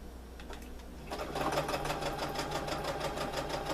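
A sewing machine runs a straight stitch through stiff 100% cotton fabric, with a quiet start building into a fast, steady, close mechanical chatter and no voices.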